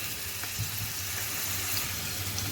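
Chicken pieces fry in a pan over a low flame, giving a continuous, even sizzle that is close and steady throughout, with no talking.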